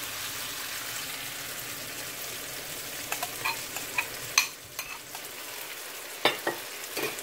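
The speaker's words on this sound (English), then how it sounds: "Now guys, I'm gonna add my mackerel." Tinned mackerel hits a hot frying pan for a Jamaican-style dish, giving a steady close sizzle with scattered crackles and a few sharper pops and scrapes of stirring partway through.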